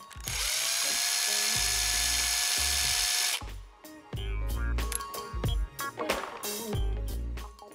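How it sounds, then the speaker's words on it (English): A power driver spins a Ryobi countersink drill bit, a steady high whine for about three seconds, then shorter bursts of drilling and handling noise as the bit works. "You can just set it in and let the driver do your drilling."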